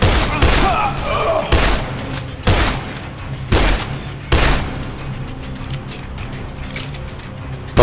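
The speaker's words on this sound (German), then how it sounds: "Der hat ein fettes MG." Heavy machine gun fire in the zombie game Dead Island, a series of loud, sharp bursts cracking out at irregular intervals over a busy background, close and punchy.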